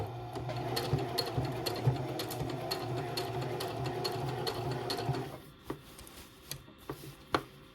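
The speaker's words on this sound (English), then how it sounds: "I'm going to start sewing, and then I'm gonna back stitch, and then I'm gonna continue sewing" Sewing machine stitching fabric from a thrifted pillowcase for a slouchy tote bag, a close steady whir for about five seconds, then stopping into a few scattered handling clicks and knocks.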